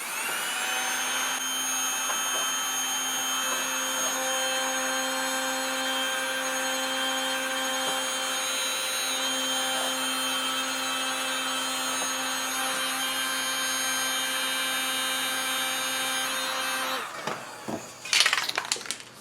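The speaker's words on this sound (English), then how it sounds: "I'll just use my heat gun to speed this along a bit" A heat gun blows a steady, close, whining hiss while drying fresh paint on the auger of a Honda HSS1332 snowblower, running continuously before cutting off near the end, followed by a few brief knocks.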